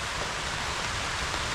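Steady rain falling on the fifth straight day of downpour, a dense continuous hiss with no break, fairly close and even throughout, with no voices.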